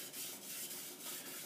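A knife is pushed in slow, regular strokes across an Imanishi Dragon 800 whetstone, giving soft, faint scraping rasps in a steady rhythm.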